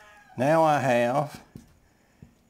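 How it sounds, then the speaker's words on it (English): A rooster crows once, a loud rising-and-falling call close by, followed by a few faint knocks and a brief spoken phrase. "You hear the rooster crowing in the background?"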